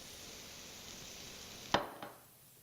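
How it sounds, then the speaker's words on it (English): A multi-bladed pastry knife strikes sausage in a pan with one sharp chop followed by a softer second hit, close and clear against a quiet background. "I take a pastry knife or a blender, whatever you want to call it, that has about 4 or 5 blades, and I start working the sausage"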